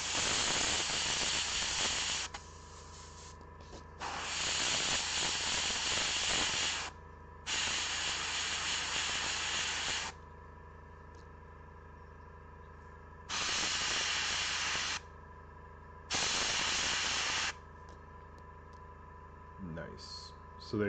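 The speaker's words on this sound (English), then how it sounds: "A little bit of brush control with the airbrush." An airbrush sprays gold paint onto a Custodian Guard miniature in hissing bursts of a few seconds each, separated by quieter pauses, close and steady, with faint background hum.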